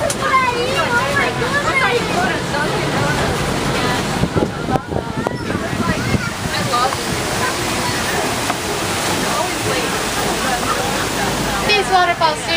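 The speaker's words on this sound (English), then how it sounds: "Coming up ahead, we're going to pass through some beautiful waterfalls." Rushing water from waterfalls beside the Kilimanjaro Safaris ride vehicle at Disney's Animal Kingdom, a steady loud wash mixed with a running vehicle and crowd chatter, with people talking and exclaiming throughout.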